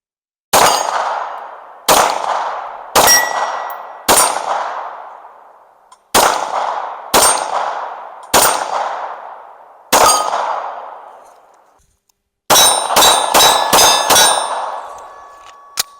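Gunshots fired at long range ring out as sharp clangs with decaying tails: single shots spaced about a second apart, then a quick burst of five, loud and alone without talk.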